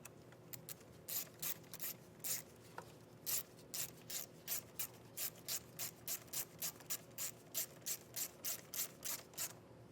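A ratchet tightens a nut down onto a ring terminal on a vehicle wiring harness, quick rhythmic clicking strokes close up, in repeated bursts with short pauses between.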